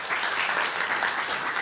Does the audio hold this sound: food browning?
no